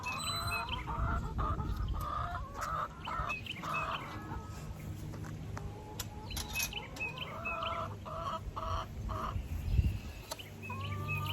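Several hens cluck and chatter in short, overlapping bursts, moderately close, with soft shuffling and faint background noise between calls.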